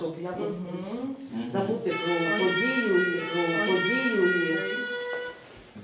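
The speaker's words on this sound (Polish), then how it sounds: "Odzywa się alarm." Air raid alarm siren in Ukraine wailing as a steady rising tone, with people talking over it nearby.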